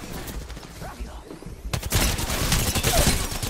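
Gunfire in Apex Legends during a firefight: scattered distant shots at first, then a dense, loud burst of rapid fire in the second half.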